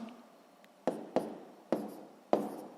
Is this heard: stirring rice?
no